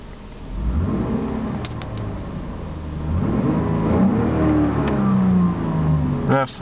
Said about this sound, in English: Brilliant sounding V6 engine.